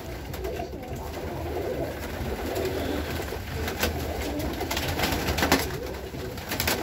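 Pigeons coo softly in a steady, murmuring chorus, close by, with shuffling and light rustling noises around them.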